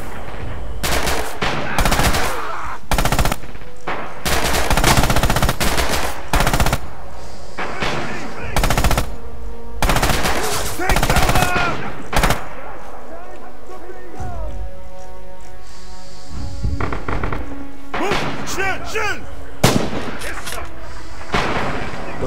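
Rapid bursts of rifle and machine-gun fire in the World War II shooter Red Orchestra 2: Heroes of Stalingrad, loud and close, with repeated sharp shots, clattering volleys and distant battle noise, a player speaking between bursts.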